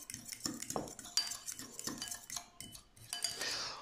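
Cucumber and gherkin tagliatelle tossed in a bowl with utensils, quiet clinks and wet scraping strokes in an irregular rhythm, close and fairly soft, with no voices.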